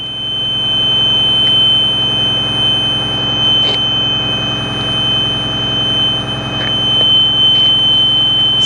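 The rear emergency door alarm on a 2009 Blue Bird All American FE school bus buzzes continuously, a steady loud electronic tone with a few faint clicks and knocks behind it and no talk.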